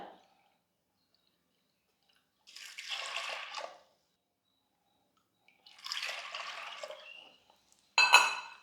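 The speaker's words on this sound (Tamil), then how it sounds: "ரெண்டு கப்பு தண்ணி சேர்த்துக்கிறேன்" Water is poured into a pressure cooker of urad dal in three separate bursts, each a short splashing gush with silence between, the last one brief and sharp.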